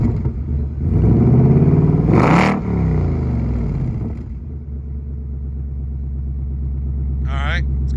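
A 2024 Ford Mustang with an MRT H-pipe exhaust revs sharply, the engine note climbing into a loud rising roar around the middle before dropping back to a throaty idle, with a voice heard near the end.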